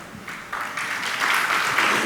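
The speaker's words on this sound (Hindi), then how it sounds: "अभी ताली मत बजाओ" Audience applause at a Jain monk's question-and-answer gathering in Gunayatan, Jharkhand, a steady wash of many hands clapping that builds slightly in loudness over two seconds, with no speech over it.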